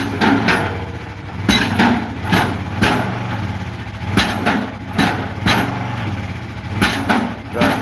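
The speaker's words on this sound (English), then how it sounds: "The 2-ton hammer on that." A 2-ton pile hammer drives a pile into frozen ground in a Russian winter, with loud repeated thudding blows at an irregular pace over a rumbling engine idle.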